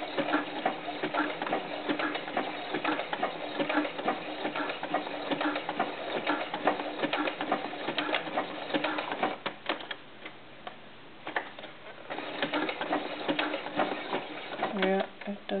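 A sewing machine stitches a knit tank top for a doll, a rapid steady rattling needle chatter that falters partway through before resuming, with a voice speaking over it.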